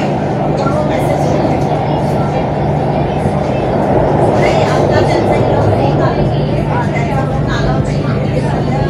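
Pune Metro train running between Anand Nagar and Ideal Colony stations, heard from inside as a loud, constant low hum and rumble with faint rattles, while a voice talks over it.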